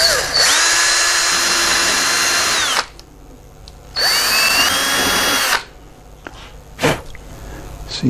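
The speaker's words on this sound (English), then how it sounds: "Okay, so we're going to drill our hole here." Power drill boring a small 0.113 bit hole into the wing of a Hangar9 Red Tail P-51 model airplane, two loud sustained whirring bursts of about three and two seconds separated by pauses, ending with short clicks.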